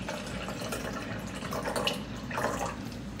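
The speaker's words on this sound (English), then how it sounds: "So I'll add 6 ounces of water to the measuring container." Water poured into a measuring container while preparing baby formula, a steady close trickle and splash running for a few seconds with no voices.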